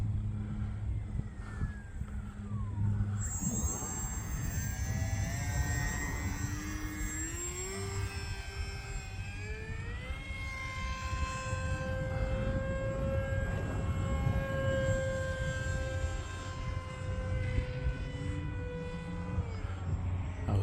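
A small HobbyZone Aeroscout RC airplane flies in gusty wind, its electric motor whining and shifting pitch as the throttle rises and falls, passing fairly close with steady wind rumble underneath and no talking.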